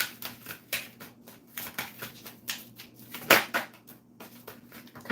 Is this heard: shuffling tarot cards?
yes